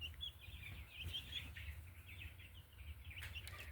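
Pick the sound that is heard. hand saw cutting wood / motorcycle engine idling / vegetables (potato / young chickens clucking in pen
young chickens clucking in pen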